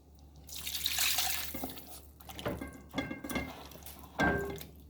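Water being poured into a pot for Jamaican steamed fish, a close splashing stream that surges, breaks off and resumes in short pours with clinks of the pot.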